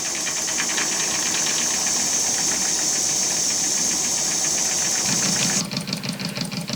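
A small oscillating steam engine runs slowly with a steady rapid chuffing and a high hissing tone, then the hiss drops off and a lower hum takes over near the end.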